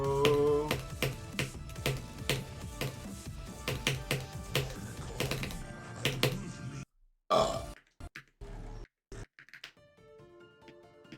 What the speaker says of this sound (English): Did I burp?